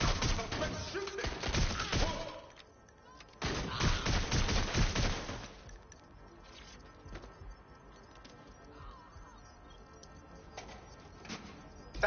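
Rapid bursts of automatic gunfire crackle in the Watch Dogs Legion video game, two dense loud volleys followed by sparser scattered shots and ticks fading into the background.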